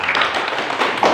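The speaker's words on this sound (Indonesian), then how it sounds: "Boleh tepuk tangan yang" Schoolchildren clapping during a visit to a digital reading corner, with a burst of quick bright hand claps at moderate distance, uneven in rhythm and fairly loud.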